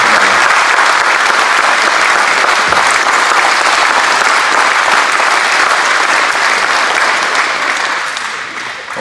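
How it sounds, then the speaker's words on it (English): A large crowd at an air museum event with veterans gives a loud, sustained round of applause, dense clapping that holds steady for several seconds before easing slightly at the end. "So let's give them all a big round of applause."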